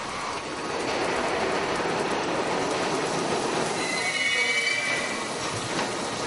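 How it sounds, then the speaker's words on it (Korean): A New York subway train rumbles steadily nearby, with continuous wheel noise on the rails and a brief high squeal partway through. "낮 시간에도 많은 사람들로 붐비는 뉴욕의 지하철."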